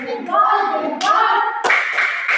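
Children in a group doing a rhythmic 'tepuk salut' clap routine, with sharp bursts of hand claps mixed with chanting voices, close and lively.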